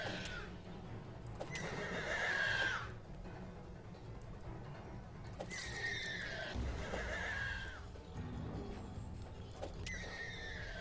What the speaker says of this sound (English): These things sound like horses.